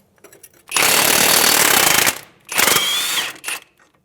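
An impact wrench spins the strut nut off a 2011-2017 Honda Odyssey front strut assembly in two loud rattling bursts, the first longer than the second, with short pauses around them.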